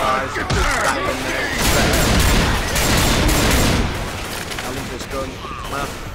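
Shotgun blasts and other gunfire in Left 4 Dead 2 come in loud, dense, overlapping bursts that continue almost without a break, with chaotic game sounds mixed in.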